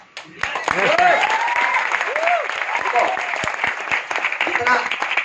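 A trainer at an NTC session in Virar claps his hands in a quick steady rhythm while speaking, with sharp close claps punctuating his voice throughout.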